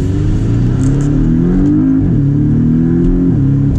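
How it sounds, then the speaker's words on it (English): A Porsche 718 Cayman S in Sport Plus and manual mode accelerating hard, a loud steady engine drone rising in pitch, dipping briefly at a gear change, then climbing again. "All right, so we're gonna do a little acceleration here."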